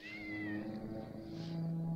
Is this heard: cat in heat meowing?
yes